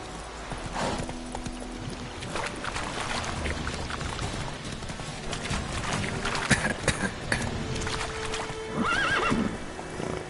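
A horse in The Witcher video game moves along with soft hoof clops, a splashy rustling texture and a couple of brief neighs and whinnies near the end, under a fairly busy in-game background.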